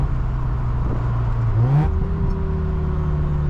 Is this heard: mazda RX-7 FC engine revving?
yes